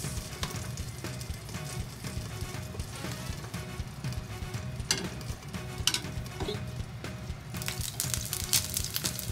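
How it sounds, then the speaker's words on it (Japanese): Asparagus pan-frying in a hot pan, a faint, continuous sizzle and crackle with scattered small pops and light stirring or turning sounds, and no one speaking. "このアスパラ焼いていきます。"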